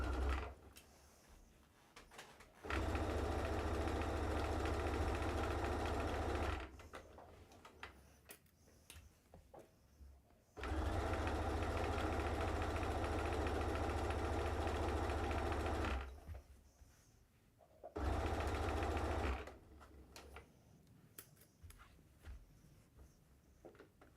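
A sewing machine running in long bursts with a short stitch length on thick fabric for a Christmas project, its motor whirring loudly in steady runs separated by quiet pauses and small clicks.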